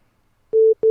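A telephone busy signal sounds twice in a second: two steady electronic tone bursts separated by a short gap, close and clear after brief silence.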